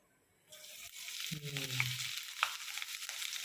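Cumin, garlic paste and chilies hit hot oil in a tadka with a sudden loud sizzle that settles into steady, close, crackling frying with a few sharp pops.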